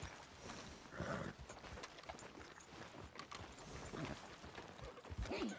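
A horse in the western game Red Dead Redemption 2 gives a soft whinny and snorts amid faint hoof clops, quiet and close with low background ambience.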